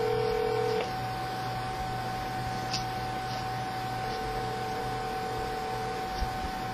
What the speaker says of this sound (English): I'm about to call Deonka and see if she gonna answer the phone.